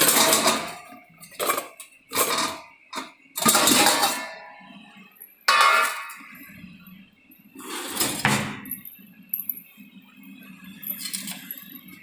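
Heavy metal pots and dishes clatter and clank in bursts as they are set down and stacked nearby, with quieter pauses and faint room hum between.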